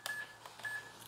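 Electronic keypad beeps on a KIS-8611Q card terminal as an approval number is entered, two short tones spaced about half a second apart with soft key clicks, faint and close in a quiet room.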